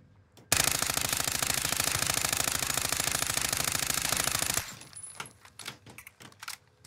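An LC10 submachine gun in the game Warzone fires one sustained automatic burst, a loud, rapid, even rattle lasting about four seconds. A few faint clicks and shuffles follow it.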